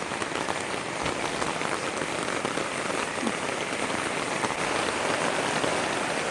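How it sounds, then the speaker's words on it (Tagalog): Steady midday rain falling on a surface, a dense, even hiss of drops close by, continuous and loud with no voices. "Maulan na naman ang tanghali."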